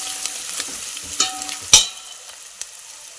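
Garlic paste sizzles in a pan as asafoetida and turmeric go in, with a soft, steady frying hiss, a few scattered stirring clicks and one sharper clatter near the middle, close and fairly quiet.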